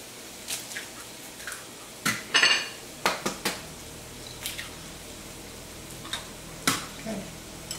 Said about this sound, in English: Break open 2 more eggs now.